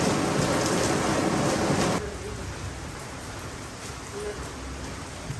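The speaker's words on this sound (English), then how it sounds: "It is hailing outside." Hail falls outside in a dense, steady roar of pattering, loudest at first and then settling to a slightly softer, continuous rush.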